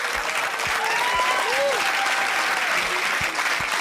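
Audience clapping during a live broadcast of the Beresheet moon landing, steady dense applause with a faint voice and a few low thumps underneath.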